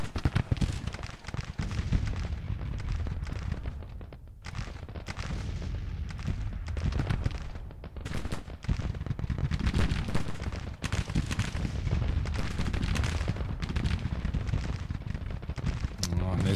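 Musket volleys and artillery in a Civil War battle game at Bull Run crackle and boom without pause, shots overlapping in thick bursts with heavy low thuds, steady and loud throughout, while someone speaks German over the din.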